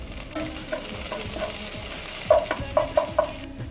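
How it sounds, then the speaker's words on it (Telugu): Curry leaves, chopped onion and green chillies fry in a pan for garlic rice, a steady sizzle running underneath while a spoon scrapes and stirs, with several sharp clinks and taps near the end. "తరిగిన పచ్చిమిర్చి వేసి బాగా వేయించుకోవాలి."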